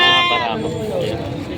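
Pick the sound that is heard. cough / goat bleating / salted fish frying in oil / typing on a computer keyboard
goat bleating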